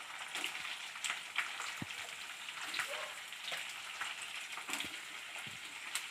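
Onions frying in a pan with red chilies, a soft, steady crackle and sizzle with scattered small pops, faint and close, no talk.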